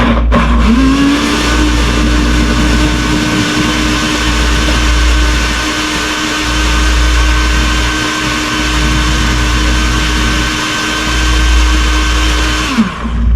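A steady, loud motorized whir runs continuously for several seconds, like a blender motor spinning at constant speed, starting and stopping abruptly.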